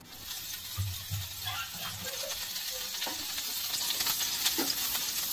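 Chopped ginger, garlic and green chili frying in a little oil in a wok, a continuous bright sizzle that slowly grows denser, with occasional soft stirring knocks and scrapes underneath.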